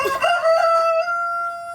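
A rooster crows once, close and loud, the call starting with a rough onset and settling into a long sustained tone that fades out, with no voices around.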